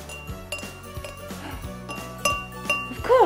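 Glasses holding water are struck in turn, bright ringing clinks with sustained tones sounding a few times a second, close and clear, ending in a rising wavering ring.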